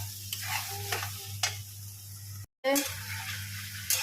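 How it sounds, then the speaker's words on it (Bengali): Beans sizzle in a pan with stirring and scraping sounds, a low hum underneath and a brief dropout midway. "বিনস ভাজাভাজি হচ্ছে রাইসের জন্য"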